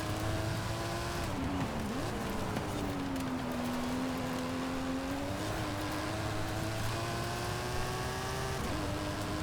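Mini car engine racing in Forza Horizon 5, a continuous close buzzing drone whose pitch rises and dips with gear changes and throttle, loud and steady with no talk.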